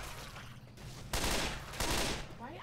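Gunfire crackles in a modded Left 4 Dead 2 co-op playthrough: dense bursts of shooting, heard as two loud stretches of rapid fire over a constant noisy background, fairly close.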